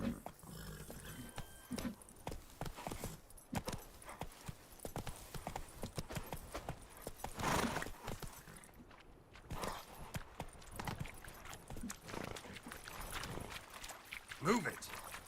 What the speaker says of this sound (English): That's it, Roach. Take it easy.